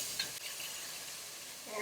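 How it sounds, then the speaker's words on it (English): Garlic and shallots are stirred in a hot pan, a brief bright sizzle with a soft scrape or two, close by. "Give it a nice stir."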